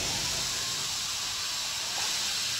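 Steam hisses steadily in the Outlast horror game, a continuous loud, airy rush that stays constant throughout with no pauses and no voices.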